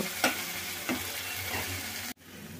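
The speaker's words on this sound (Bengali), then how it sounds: "এখন আমি মশলাটাকে একটু লো ফ্লেমে ভেজে নেব" Spice paste frying in oil on a low flame for a chhanar dalna curry, a close, steady sizzle broken by a few stirring scrapes, cut off abruptly near the end, with no talking.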